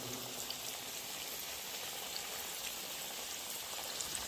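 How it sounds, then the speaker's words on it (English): Churros dough fries in hot oil in a pan, giving a steady, even sizzle and crackle like light rain, heard close and alone without talk. "As you can see, we are frying it."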